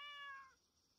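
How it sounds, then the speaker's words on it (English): A pet cat gives a single drawn-out meow, heard up close and fairly clear, fading away after about half a second with only faint room noise left behind. "Oh, he's just sleeping and meowing."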